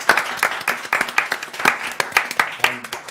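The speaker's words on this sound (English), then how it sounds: "I want to give them a round of applause" Staff at a United Mutual members' meeting in December get a round of applause: dense, lively hand clapping from a room of people, close and steady, lasting the whole stretch.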